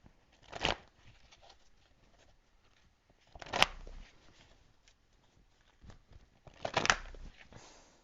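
A deck of energy oracle cards is shuffled in three short, soft riffling bursts at close range, with quiet pauses between them.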